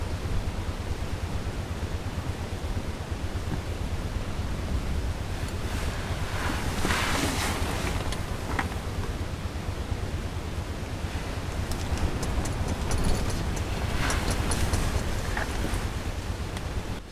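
Steady strong wind outside during ice fishing, a continuous broadband rush with gusts swelling and fading, no voices.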